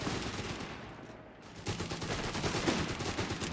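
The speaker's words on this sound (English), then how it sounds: "We've got the Grenadiers with their Kar 90K. Bolt action rifles shot being fired here." Wehrmacht Grenadiers firing bolt-action rifles in Company of Heroes 3, sharp cracks spaced irregularly over a busy battlefield, growing denser and louder after a brief lull.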